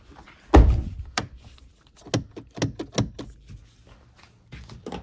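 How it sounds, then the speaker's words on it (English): The rear door of a 2017 Hyundai Tucson slams shut with one loud, close thud, followed by a series of sharper clicks and clunks from the door latch and lock mechanism, with no talking. "Let's shut this door."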